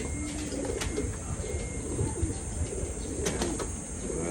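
Crossbred pigeons coo softly and repeatedly close by, with occasional wing flutters and chirps over a constant background hum.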